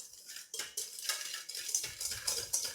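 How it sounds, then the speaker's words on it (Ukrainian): A whisk clinks and scrapes against a bowl in quick, light rhythmic strokes, mixing sugar into a cheese paska (Easter bread) mixture, close up and fairly quiet. "І тепер гарно вінчиком ось так все легенько-легенько перемішую."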